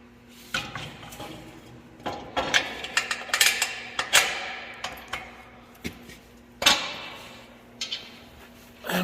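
A ratchet clicks in quick bursts while a new bolt is tightened on a field cultivator, with sharp metallic clanks and pauses between strokes, close and fairly quiet.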